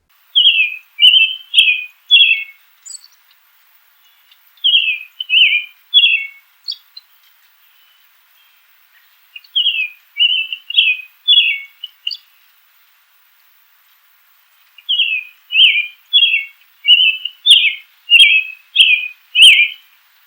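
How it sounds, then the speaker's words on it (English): A male American robin sings alone and close, giving short strings of clear, rising-and-falling whistled notes with brief silent pauses between phrases, the phrases growing longer and denser toward the end. "Male robins have a complex and almost continuous song."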